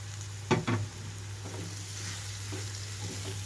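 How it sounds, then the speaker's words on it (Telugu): Boiled potato pieces and fenugreek leaves fry quietly in a pan for aloo methi fry: a faint, low sizzle over a steady hum, with a brief double clatter of a utensil near the start and soft stirring afterward. "మెంతి కూర కూడా చక్కగా ఫ్రై అయిపోయిన తర్వాత కట్ చేసి పెట్టుకున్న బంగాళదుంప ముక్కలన్నీ కూడా ఇందులోకి వేసేస్తున్నాను"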